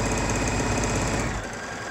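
A sewing machine stitches a seam on a cotton face mask, giving a fast, steady mechanical whir with rapid needle ticks close by. The run stops sharply near the end and only a quieter hum remains.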